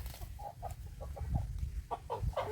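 A rooster being raised at home clucks in short, repeated calls close by, over a low rumbling outdoor background.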